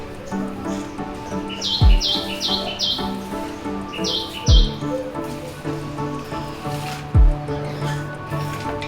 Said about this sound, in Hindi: सुबह का मौसम हो और बर्ड चहचहा रहे हों